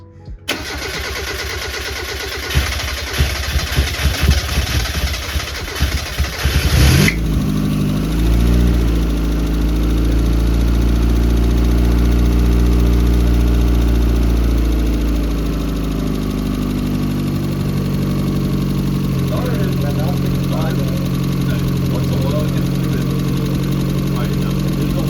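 A turbocharged Mazda Miata starts for the first time after a build: a cranking, sputtering stretch, then the engine catches and settles into a loud, steady idle close by, with people talking faintly now and then.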